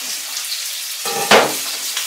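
Chicken frying in hot oil, a steady close sizzle with sharp splattering pops bursting out partway through, no talking.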